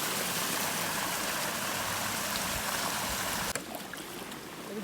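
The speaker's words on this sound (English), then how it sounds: "So the water runs down the lane, down the farmyard, and then it goes through here into our neighbour's garden." Floodwater rushing down a farm lane and through a farmyard in Derbyshire, a loud, constant broadband hiss of running water that drops off sharply near the end.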